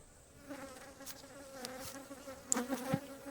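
Honey bees buzz around an opened hive being split, a faint steady drone with louder buzzing passes as individual bees fly close near the end.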